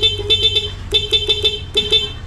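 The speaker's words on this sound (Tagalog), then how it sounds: "ito yung ating busina, syempre." A Honda Click motorcycle horn honks in three rapid bursts of short beeps, each group of four or five close, loud toots, with a low steady engine idle underneath.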